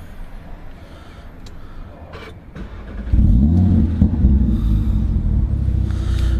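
An Audi RS3 with the performance pack cranks and fires up after about three seconds of quiet idle-room noise, settling into a loud, deep, steady rumbling idle close by.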